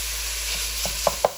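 Ground lamb sautéing in a pan for shepherd's pie, a steady broadband sizzle with a few sharp scrapes or stirs near the end, close and fairly quiet, with no talking.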